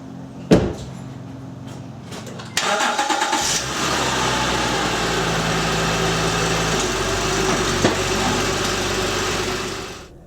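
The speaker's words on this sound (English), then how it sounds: "Now the vehicle has been idling for roughly 15 minutes" A car engine starts with a sharp crank and settles into a steady, loud idle that runs on alone without talk, during a coolant flush and radiator hose replacement.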